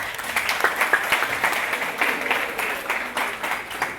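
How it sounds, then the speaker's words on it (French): Audience applause at an international school welcome ceremony, a steady wash of many hands clapping with uneven peaks, fairly close and continuous, without talk. "Qu'il vous plaise, l'auditoire, d'applaudir pour eux."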